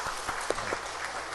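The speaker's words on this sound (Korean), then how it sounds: "우리 환영의 박수 한번 해주시면" A church congregation gives a short round of welcoming applause during a Sunday worship service, a brief wash of clapping from the room at moderate distance.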